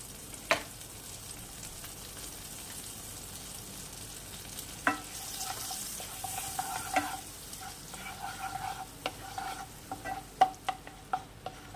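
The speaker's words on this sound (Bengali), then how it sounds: "গ্যাসের ফ্লেম একদম কমিয়ে দিয়েছি, দিয়ে দিচ্ছি মাখন।" Butter melts and sizzles in a pan over a very low gas flame while preparing Bengali dudh katla fish, a soft steady frying hiss with occasional sharper pops and light stirring clinks.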